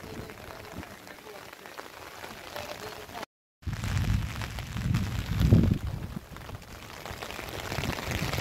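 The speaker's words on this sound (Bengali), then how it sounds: "বৃষ্টি শুরু হয়ে গেল" Rain begins to fall outdoors over sand and green grass on a breezy day, a steady broadband patter and hiss that briefly cuts out, then swells louder.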